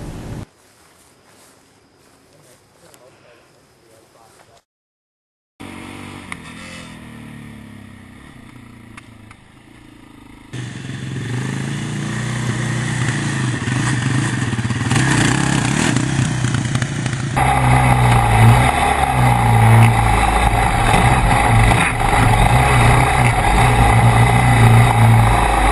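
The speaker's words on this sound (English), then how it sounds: "a basic obstacle test that consisted of driving over a series of logs at different speeds" ATV driven over a series of logs at different speeds: engine drone rising across several separate passes, from faint and muffled to loud and close, with clattering bumps and revving in the later, louder stretches.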